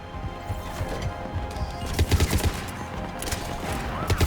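Rapid bursts of heavy booming video game cannon fire and crashing impacts rattle through, clustered in quick volleys over a busy, rumbling background.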